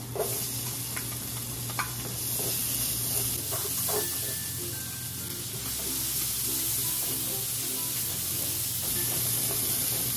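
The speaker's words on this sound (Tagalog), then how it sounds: "Lagay natin yung ating bawang. Tapos, lagay natin sibuyas." Garlic and onion sauté in hot oil in a pan, making a loud, steady sizzle and hiss with intermittent stirring scrapes throughout.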